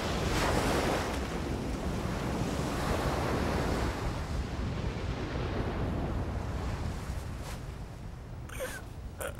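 Ocean surf from the video game Ar Tonelico Qoga rolls on steadily, a dense wash of breaking waves with a windy roar, loud and continuous, with no voices.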